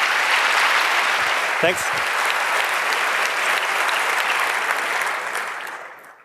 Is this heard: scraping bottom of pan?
no